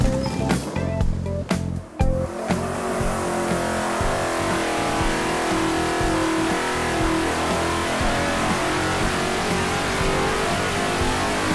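Loud, sustained roar of a carbureted Ford Coyote V8 engine held at high revs on a dyno after a few quick throttle blips, continuous and dense with no talking.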